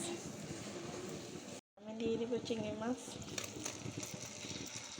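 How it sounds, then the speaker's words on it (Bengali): Shrimp go into a hot frying pan with garlic and ginger paste, and a burst of loud sizzling follows a brief drop-out; a voice is heard over the frying. "এবার আমি দিয়ে দিব চিংড়ি মাছ।"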